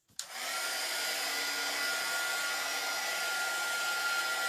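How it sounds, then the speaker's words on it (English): A heat gun blows steadily at close range, a continuous broadband whoosh that starts abruptly after a brief moment of quiet and holds at an even, loud level throughout, used on a sunflower wreath craft project. "Now I'm using a heat gun, but you can totally use a blow dryer."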